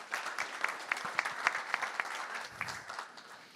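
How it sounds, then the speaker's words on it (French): Audience at an innovation lab session on transition challenges applauds a speaker named François, with moderate, steady clapping that carries through the whole stretch with some louder individual claps standing out. "François, oui, on peut l'applaudir, en effet."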